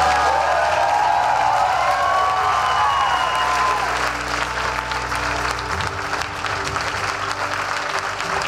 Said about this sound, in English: let's have a big round of applause for our Excel graduates